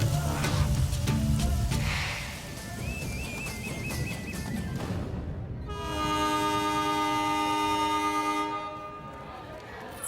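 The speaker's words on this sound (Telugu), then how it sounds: "అయ్యో ట్రైన్ కదిలిపోతుంది" A train in the film Varsham starts to move, with rumbling wheels and a rising whistle, then a long, loud multi-tone horn. Voices and music sound over the train.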